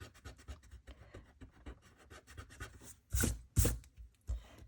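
A pencil draws on paper with quick, rhythmic scratchy strokes, close and quiet, ending in a few louder, heavier scrapes.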